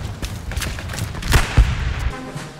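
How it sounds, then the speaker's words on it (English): Game gunfire from Hell Let Loose, a WWII shooter: a volley of shots, some close and sharp, others more distant, with two heavy louder cracks near the middle and a rumbling tail, no talk. "Somebody's shooting at me."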